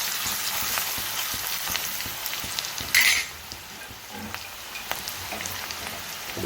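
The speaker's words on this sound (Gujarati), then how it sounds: "મારી પાસે લસણની પેસ્ટ પડી છે એ આપણે અંદર નાખીને મિક્સ કરીશું" Green chillies, tomato and garlic paste sautéing in hot oil, a steady close rain-like sizzle with light spatula scrapes, a brief louder stir burst partway through after which the frying settles slightly quieter, no speech.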